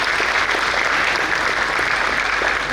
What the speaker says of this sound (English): Please, a round of applause for him once more.